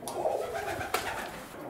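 Pigeons coo softly inside a loft, a low burbling murmur with a brief sharper call near the middle, fairly quiet and with no voices over it.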